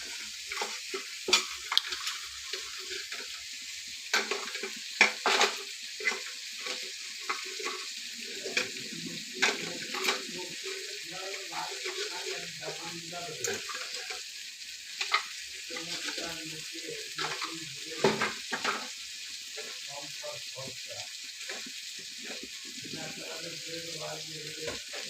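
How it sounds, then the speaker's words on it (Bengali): A spoon stirs a thick taro and fish-head curry in a pan, scraping and clinking in scattered strokes against a soft sizzle, with faint water-like noise in the background. "একটু ভালো করে নাড়িয়ে চাড়িয়ে দেবো।"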